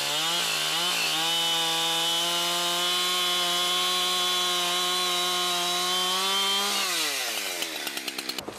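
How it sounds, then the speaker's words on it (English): A chainsaw skims bark off a willow log while roughing out a carved perched hawk or eagle, holding a loud, steady high-revving whine for several seconds before dropping sharply and sputtering down toward idle at the end. "use your chainsaw and just skim across and remove all that bark"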